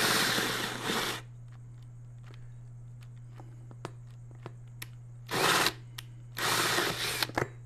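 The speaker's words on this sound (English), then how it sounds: "now the teeth of the hole saw will start to go through" A cordless drill with a hole saw cutting through plastic whines in short bursts with a gritty cutting rasp, pausing between runs while a low hum and scattered small clicks fill the gaps.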